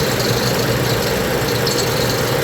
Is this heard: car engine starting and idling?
yes